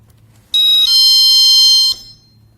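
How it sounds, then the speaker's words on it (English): A GE personal security window and door alarm set to alarm mode sounds one loud, piercing electronic shriek lasting over a second, starting abruptly and cutting off cleanly in a quiet room. "you set it to alarm instead of chime, and then you get this"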